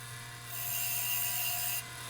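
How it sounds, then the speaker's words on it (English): A wooden lid spins on a wood lathe while a tool hollows out its inside, giving a steady scraping hiss over a constant motor hum that swells louder in the middle and then eases back. "while I hollow out the inside of the lid"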